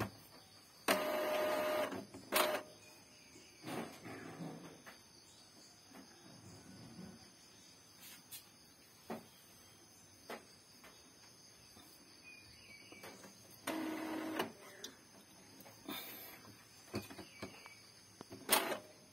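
An Epson L3210 inkjet printer runs a head cleaning cycle: quiet mechanical whirring broken by several louder bursts of carriage and pump motor noise, close by and with no talking.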